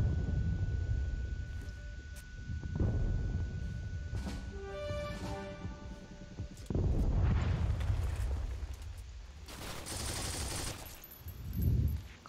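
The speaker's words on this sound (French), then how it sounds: "Oh, grenade." A grenade blast in a French-played online shooter game, a loud burst with rumbling low end amid ongoing gunfire and other explosive impacts, followed by further booming hits later on.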